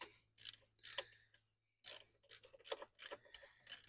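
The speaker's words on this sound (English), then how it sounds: "I'm just twisting the extension" Socket extension twisted by hand on the lower alternator bolts of a BMW 535i F10, making a series of crisp ratcheting bursts in short bunches with brief silent gaps, close and clear.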